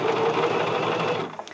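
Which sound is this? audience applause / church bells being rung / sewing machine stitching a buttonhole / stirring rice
sewing machine stitching a buttonhole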